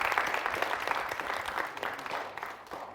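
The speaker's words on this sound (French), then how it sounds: "On va applaudir quand même." Audience applause at a Valentine's Day couples show, a steady broadband patter of many hands clapping close by for about three seconds, with no voices over it.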